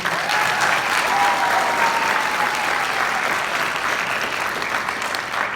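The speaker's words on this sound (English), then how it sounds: "Let's give him a round of applause." A crowd at a high school marching band concert applauds loudly and continuously, a dense wash of clapping that holds steady for several seconds, with a few whoops rising above it.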